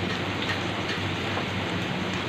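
Garlic fries in hot oil, a steady, even crackling sizzle close by, unbroken for the whole stretch and with no talking.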